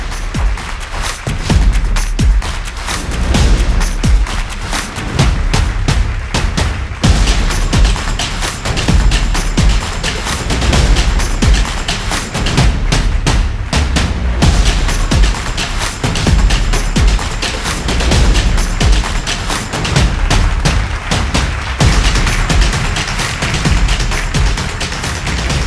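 Loud clapping welcomes achievers at a virtual National Achievement Day celebration, a dense, heavily distorted burst of hands that pounds on almost without pause for about twenty-five seconds and sounds harsh, almost like crackling gunfire.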